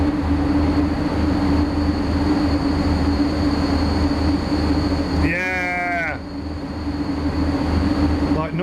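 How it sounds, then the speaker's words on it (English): Train moving through the railway sim SimRail, a steady rolling rumble with a droning tone running throughout, a brief squealing or whistling burst near the end, under occasional faint talk. "There's a good train."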